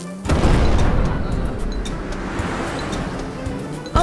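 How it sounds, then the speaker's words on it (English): A cartoon volcano erupts in a loud, sustained rumbling roar with deep booming and a surf-like wash, starting abruptly and holding steady throughout with no talking. "I think the volcano is erupting"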